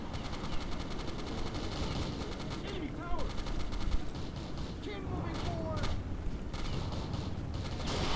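Bursts of automatic gunfire crackle in the PC shooter CrossFire, a dense run of rapid shots mixed with mechanical clatter and whooshes, heard at moderate level throughout.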